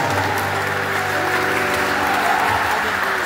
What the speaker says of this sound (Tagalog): yung pinakamalakas, na palakpak bilang papuri sa ating Panginoon